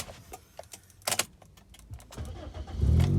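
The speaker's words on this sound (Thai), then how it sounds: "มาฟังเสียงเครื่องกันนะครับ" A car engine cranks and catches, rising into a loud, steady rumble at the end, with a few clicks and rattles before it.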